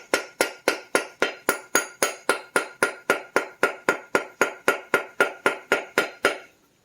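Part being tapped into place on a Dolmar 7300 chainsaw during a rebuild, an even series of about twenty sharp metallic taps at a quick steady pace, close and alone.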